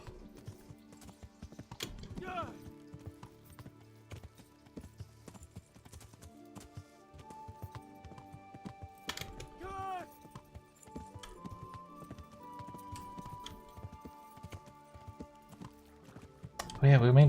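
Rhythmic hoof clip-clop of a galloping horse in Kingdom Come: Deliverance, with a whinny, over background music and effects, ending in a louder burst.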